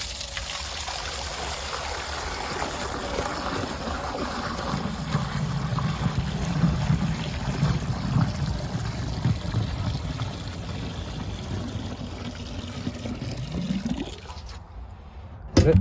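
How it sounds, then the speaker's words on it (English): Water pours steadily from a big barrel tipped into an old hidden drain in a barn, a sustained rushing gush that swells midway and then tapers off to quiet near the end. "I've got this big barrel of water, and I'm basically just going to tip it in."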